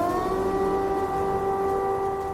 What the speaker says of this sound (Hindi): कीव में युद्ध की सायरन खामोश नहीं हो रही है।